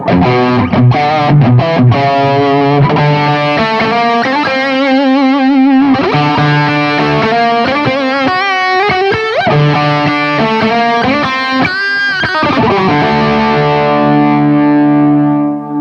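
Heavily distorted electric guitar played through a tube-driven distortion pedal at full gain, warm and fat with bite, sustained chords and fast melodic lines ringing loudly and continuously with a final held note.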